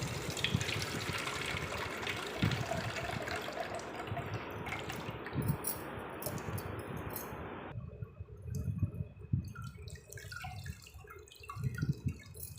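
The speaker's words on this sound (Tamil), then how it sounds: "இதை நல்லா கரைச்சிட்டு நம்ம ஒரு கிண்ணத்தில் இதை வடிகட்டி எடுத்துக்கலாம்." Soaked tamarind water strains into a kitchen bowl with a soft, continuous splashing and dripping pour nearby, broken by a few louder liquid plops and squishes.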